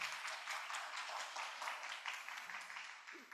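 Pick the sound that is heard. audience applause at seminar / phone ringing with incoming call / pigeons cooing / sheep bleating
audience applause at seminar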